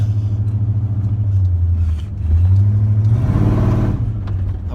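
A 1996 Ford F150 truck with a 5.0L V8 engine and 4.10 gears pulls away, its engine rumbling low and close, then revving up through a rising whir before settling back, with no talking.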